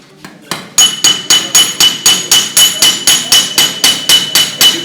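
A hammer strikes metal in a fast, even rhythm, with about a dozen loud, close, ringing blows after a few softer opening taps. The tool rebounds little between hits.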